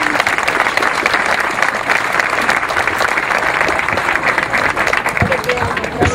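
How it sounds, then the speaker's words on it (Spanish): An audience claps steadily and loudly throughout at an outdoor community tour event, with a crowd murmuring underneath. "Denle un aplauso aquí a Atsiri."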